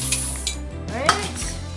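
A spoon stirs oxtail and browning in a pot with a soft wet scraping and sloshing and a light clink against the side, close and continuous over a faint sizzle.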